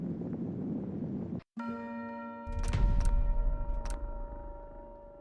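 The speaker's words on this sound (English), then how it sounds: "I'm getting tired of those bells" Bells ringing in Fallout London, a Fallout 4 mod, with sustained tolling tones after a brief gap, then several louder struck bell hits over a rumbling low background.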